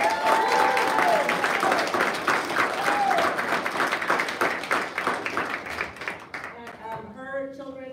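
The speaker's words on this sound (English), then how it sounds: "So please join me in an applause for Ms. Anu" A room at a school governing board meeting breaks into applause for an honoree, full clapping that thins out toward the end as a voice and a brief tonal sound come through over the fading claps.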